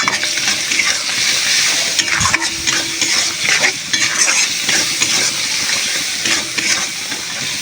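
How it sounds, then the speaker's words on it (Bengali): Spices for a dried fish curry stir-fried in a pan, with a loud, steady sizzle and frequent scraping stirs running through the whole stretch, close up and with no talking. "মশলাটা এবার একটু কষিয়ে নেব।"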